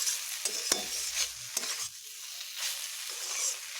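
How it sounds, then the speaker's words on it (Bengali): Arum leaves (kochu shak) fry in a pan while being stirred, a close crackling sizzle broken by several sharp scraping strokes of a spatula, with no talking. "এগুলোকে আরও একটু ভালোভাবে ভাজবো যেহেতু কচুর শাক সেই জন্য একটু টাইম দিয়ে ভাজতে হবে"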